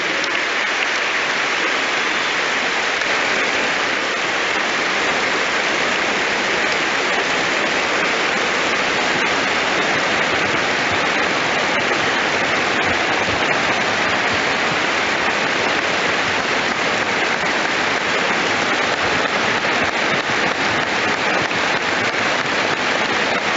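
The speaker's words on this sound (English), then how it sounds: "We have a minute's applause here at Hampden Park to remember him." A stadium crowd at Hampden Park gives a minute's applause for Scottish footballer Gordon McQueen while rain falls. Dense clapping continues without a break as a steady, even wash of sound for the whole stretch, with no voices standing out.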